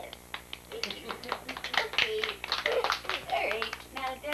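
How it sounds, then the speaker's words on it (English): An audience claps at a live performance, scattered and fairly close, rising and falling across the moment, with a voice speaking over it. "You can clap."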